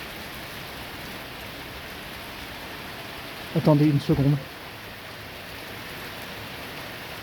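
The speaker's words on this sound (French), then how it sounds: "C'est le bruit du grésil." Sleet and hail fall during a night thunderstorm in early February, a faint, even hiss of pellets that runs unbroken while a voice briefly speaks midway.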